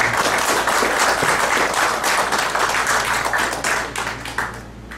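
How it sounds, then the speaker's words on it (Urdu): A mushaira audience in Dammam, 2012, gives a warm round of applause to welcome a speaker: dense, even clapping from many hands, loud and close, easing off toward the end. "آپ کی تالیاں ان کا استقبال کریں گی"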